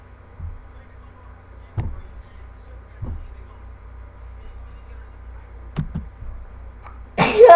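A few short, sharp bursts like sneezes spread out over several seconds in a quiet indoor room during a game of hide and seek, moderately close, with a louder noisy burst at the end.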